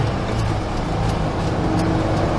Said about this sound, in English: Crank this thing up a little bit, see what we got. Solid, good sounding motor.